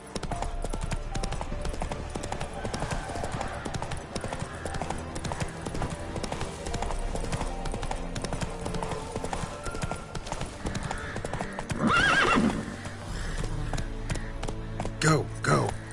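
Roach the horse gallops in The Witcher 3 with a fast, steady clip-clop of hooves under music, and a brief neigh or whinny rises near the end while a voice speaks.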